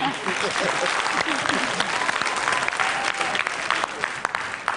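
Studio audience at a money game show applauding, a dense, steady clapping that holds for several seconds with a voice talking over it.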